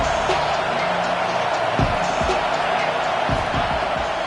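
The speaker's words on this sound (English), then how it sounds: "this crowd is turning it up a notch" A stadium crowd in a college football video game roars as a steady, loud wash of noise, with a few thumps and a commentator talking over it.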